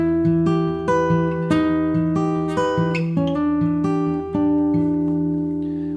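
Acoustic guitar picks a chord pattern note by note in a steady rhythm, the harmony stepping downward as it goes, clear and close.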